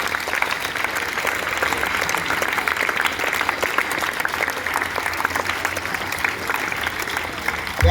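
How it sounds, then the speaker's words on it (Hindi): Many children clapping together at a school gathering, a dense, steady roar of applause that stays loud and sustained from start to finish with no pauses. "ताली बजाओ बेटा"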